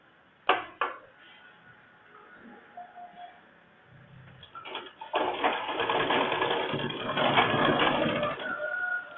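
A sewing machine runs while stitching a blouse. After a few sharp knocks and quieter handling, the motor whirs steadily and fairly loud for several seconds.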